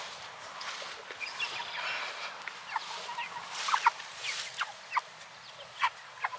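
A flock of poultry clucks and chatters continuously, with several louder squawks toward the end, close by outdoors.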